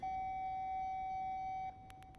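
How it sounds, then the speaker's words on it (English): An emergency alarm goes off after a power failure, sounding as a steady, loud electronic tone that holds for about a second and a half. It stops abruptly and is followed by three short, quick beeps. "Emergency lights kicked in, and the sirens started wailing."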